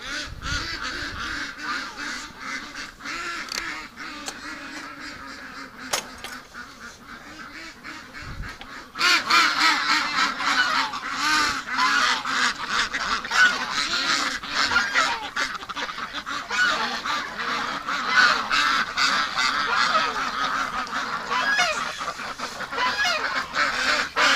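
A flock of ducks honks and quacks continuously outdoors in winter, a dense, noisy chorus that grows louder partway through and carries on steadily.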